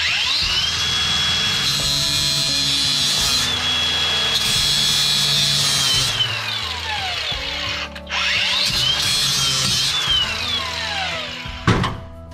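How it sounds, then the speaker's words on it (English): A small cutoff wheel grinds through a valve seat in a damaged small block Chevy AFR aluminum cylinder head, a loud close continuous shrieking whine broken by one short dip and a clattering stop near the end. "Just use the little cutoff wheel,"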